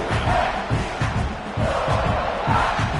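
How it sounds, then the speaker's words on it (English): A large video game stadium crowd at a college football game roars and cheers continuously, swelling in loud waves with rhythmic chanting pulses underneath. "Listen to this crowd just shaking the girders of this place trying to help their defense."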